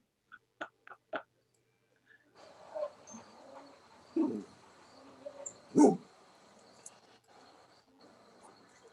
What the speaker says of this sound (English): stupid dogs next door